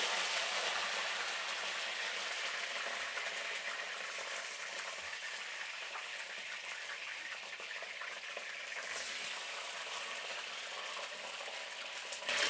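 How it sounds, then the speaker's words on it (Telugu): Eggplant pieces, still wet from soaking water, sizzle in hot oil with a steady loud crackle and hiss that holds throughout, with a brief shift near the end. "ఇప్పుడు నూనె వేడెక్కిందండి, మనం వంకాయలు వేసుకునేద్దాం."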